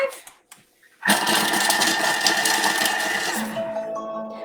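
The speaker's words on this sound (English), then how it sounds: "I am just going to chop those. 2 seconds on speed 5." Food processor chopping spring onions for okonomiyaki pancake batter, a loud steady whirring motor burst of about two and a half seconds at a medium speed setting, starting abruptly and winding down, heard alone close up.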